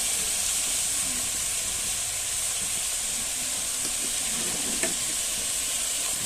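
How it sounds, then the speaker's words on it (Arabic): Zucchini, potato and eggplant frying together in a pot in a tent kitchen, giving a continuous fairly quiet hiss and sizzle with a faint clink or stir partway through. "نحط اللي هو الكوسه وحط البطاطا والبتنجان، بنحرقهم مع بعض، نقلب شويه فيهن"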